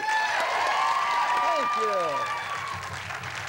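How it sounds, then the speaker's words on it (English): Studio audience applause at a comedy sketch show, steady dense clapping with voices speaking over it, tapering slightly toward the end. "An applause for Nurse Robbie."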